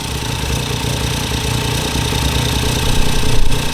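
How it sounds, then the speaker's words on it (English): A Ford Fiesta EcoBoost engine idles close by, a steady throbbing rumble that swells slightly louder toward the end. "just let it idle"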